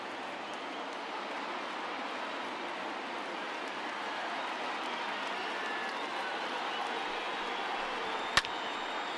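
A video game baseball crowd in MLB The Show 20 rises and cheers late in the afternoon, a steady, fairly faint roar of massed voices that runs unbroken throughout, with one sharp click near the end.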